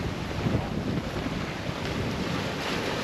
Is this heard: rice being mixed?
no